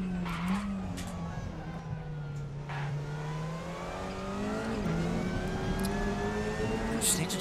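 WTCR touring car in RaceRoom locking its tires under braking, a close engine drone shifting pitch with scrubbing skid noise layered over it and brief harsher bursts near the end.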